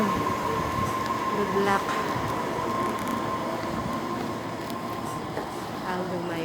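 Local commuter train in Japan riding at night during rush hour, a steady loud rumble of wheels and carriage noise with a faint squeal, while people talk briefly over it.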